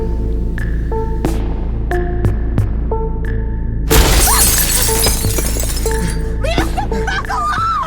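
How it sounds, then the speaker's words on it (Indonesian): A car's glass door window shatters in a horror film: a single sudden crash of breaking glass cuts through eerie droning music and hum about halfway in, followed by scattered tinkling debris. "ada yang melempar sesuatu sehingga pintu kaca mobil pecah"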